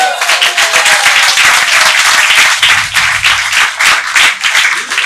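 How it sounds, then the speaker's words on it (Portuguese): Loud, dense applause from a crowd, steady clapping throughout with no pause. "Aplausos, meu rei."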